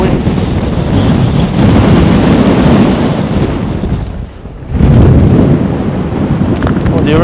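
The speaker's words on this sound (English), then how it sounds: "That's wind." Strong gusty wind buffets the microphone beside Easedale Tarn in the Lake District, a loud, continuous low roar that eases briefly around the middle before surging back.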